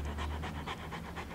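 A dog pants rapidly and steadily indoors in a newly entered home, a close, rhythmic breathy huffing with no talking over it.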